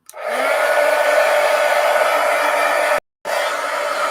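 A hair dryer blowing on wet paint, a loud steady close whir that starts abruptly, runs continuously, cuts out briefly and then resumes.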